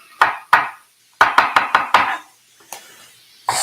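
Knife chopping celery on a cutting board in a home kitchen, a run of crisp, close chops in uneven bursts, two, then five quick ones, then a few scattered taps.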